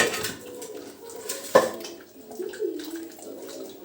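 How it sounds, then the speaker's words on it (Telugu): Soaked tamarind pulp squeezed by hand in a bowl of water for a fish curry, soft wet squelching and sloshing with one sharp clink of a vessel, close and intermittent. "చింతపండు పులుసు ఇది పులుసు పిండుకోవాలి చింతపండుది ఇందులోకి"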